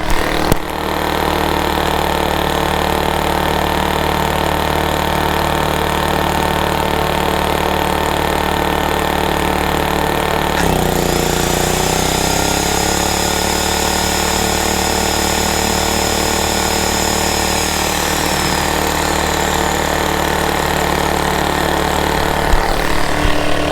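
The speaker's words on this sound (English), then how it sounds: "So I'm going to ramp up the RPMs. Now I'm going to run the angle grinder." A small engine-driven generator at an off-grid tiny house runs loud and steady while it powers an angle grinder. Its drone holds constant, then the pitch shifts as the load changes partway through, and the engine settles back to a sustained hum.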